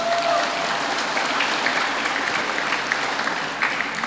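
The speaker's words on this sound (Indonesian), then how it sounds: "Tepuk tangan dong untuk kita semua." Steady, dense applause from an audience at a live youth spiritual class session, sustained evenly for several seconds without talk.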